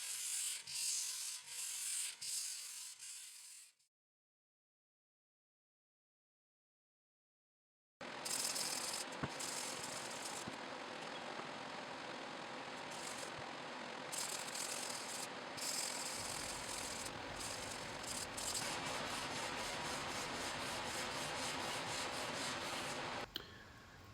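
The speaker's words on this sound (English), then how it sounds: "just going at it here with my Rotex. But I've only got 120 grit in it" Festool Rotex sander with 120 grit working over old warped workbench wood: a steady buzzing, rasping drone, cut off by a few seconds of silence, then continuing loud and close with slight shifts as the pad moves.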